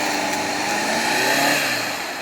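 A Subaru Forester on X-Ice tires stuck in deep snow revs its engine hard, the loud, close drone rising and holding in a sustained strain, no one speaking.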